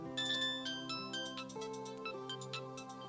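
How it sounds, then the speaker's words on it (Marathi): A melodic phone ringtone chimes through an incoming call, with repeating bright tonal notes that play steadily for about three seconds with no voices over it. "राजन, अरे ललनाचा फोन आहे, तू घेतो का मी घेऊ?"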